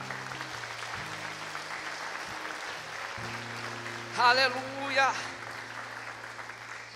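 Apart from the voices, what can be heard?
congregation applause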